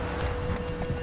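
Horse hooves galloping in The Witcher 3, a steady rapid clip-clop under a continuous game background, close and moderately loud.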